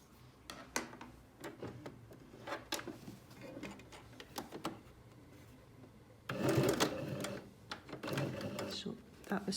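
A sewing machine reverse stitches a skirt waistband, running in short bursts of rapid mechanical chatter with brief pauses and a longer, louder run near the end.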